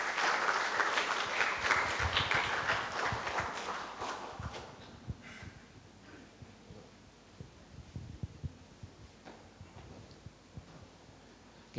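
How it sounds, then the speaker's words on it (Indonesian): A crowd at a university law lecture bursts into dense applause welcoming a speaker, loud at first and then thinning out into scattered claps and rustles over the last seconds. "dengan diiringi tepuk tangan yang meriah, saya mengundang narasumber kita Bapak Dr. Weriawan Chandra SHM Hum."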